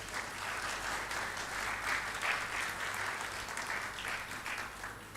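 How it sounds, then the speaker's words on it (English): Graduating students and families at a management school convocation ceremony give a broad, continuous round of applause, a dense crowd wash that holds steady without pause from start to finish. "Please, big applause for yourselves."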